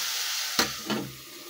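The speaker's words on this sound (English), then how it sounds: "I'm gonna leave the onions to cook for like 2 minutes." Onions and capsicum frying in a pan, a steady close hiss of sizzling with a sharper spitting crackle partway through that then settles back.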